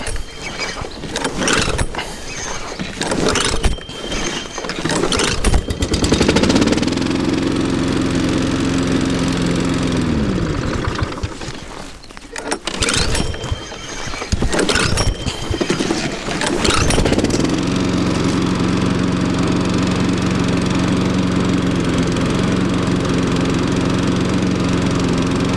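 A Loncin lawn mower engine is cranked at -18°C, with stiff rattling pulls before catching and running at a steady loud drone, then stopping and being pulled again before settling into a continuous close idle.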